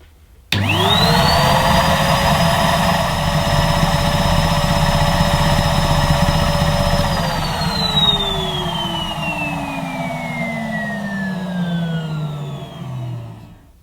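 A Henry vacuum cleaner switches on sharply. Its motor whines up to a loud, steady drone with a rising tone, then slowly winds down and fades at the end.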